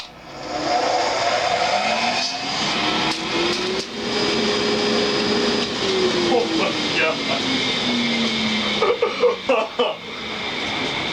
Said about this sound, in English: I'm gonna plug it in and just suck up some dust